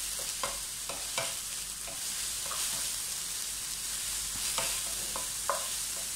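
Onions, ginger and garlic sautéing in a pan, a continuous sizzle with scattered spoon scrapes and stirring knocks at close range.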